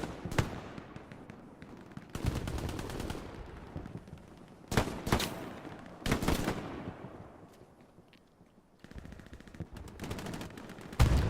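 MG42 machine gun firing in the World War II video game Hell Let Loose, several loud rapid bursts separated by pauses, with echoing distant shots and rumble between volleys.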